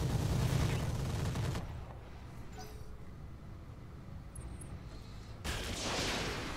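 Mech weapons unleashed together in the Roguetech battle game, a dense loud burst of booming, crackling fire for over a second, dropping to a low rumbling lull, then another heavy salvo roaring back near the end.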